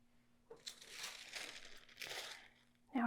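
Scissors or a rotary cutter trimming fusible interfacing along a straight line, giving two soft crinkling, slicing bursts of paper-like rustle close by, then a brief louder rustle at the end.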